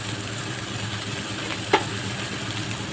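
Spices being stirred into a frying fish curry base of tomato and chilli powder: a continuous low sizzle, with one brief scrape of a spoon against the pan partway through.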